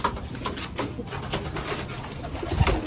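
Pigeons coo steadily in a loft at feeding time, soft repeated low calls layered with bird noise throughout, with one louder thump near the end.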